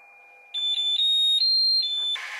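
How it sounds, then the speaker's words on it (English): A Flashforge 3D printer beeps out a short electronic tune of five or six bright, closely spaced tones during its bed-leveling test, loud and close, ending in a brief burst of noise. "Right now, just doing the test to level the plate. That's where I gotta turn this out until I start hearing a little tune."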